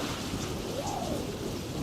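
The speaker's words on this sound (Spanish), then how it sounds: "Una terrible tormenta se había desatado, como si la furia del mar fuera incontenible" Stormy ambience of steady rain hiss with a low thunder rumble, dense and continuous, with a faint bird call partway through.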